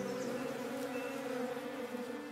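Steady insect buzzing of bees in the video game Above Snake, a continuous drone holding at an even level throughout with no talk over it.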